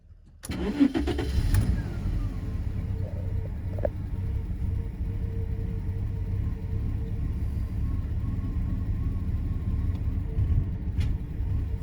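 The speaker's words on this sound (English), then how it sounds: "I'm gonna let it idle for a bit and we'll see if it comes back" A Jaguar XJ40 saloon with a suspected fuel supply fault cranks briefly and catches. It then settles into a steady, close, low rumbling idle that carries on alone.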